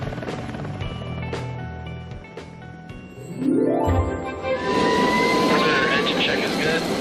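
A military jet engine runs during a pre-flight engine check at an air base; a loud roar builds with a rising whine midway and then holds steady and close, while a voice speaks over it.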